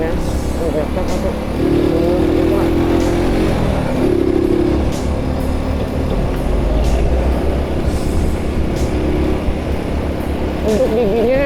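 A 1969 Honda S90 motorcycle runs at top speed, its small four-stroke engine droning steadily with loud wind rush and road roar throughout, and a faint pitch change partway through.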